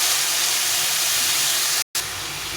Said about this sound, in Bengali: ভালো করে মশলার সঙ্গে মূলোটাকে কষিয়ে নিতে হবে।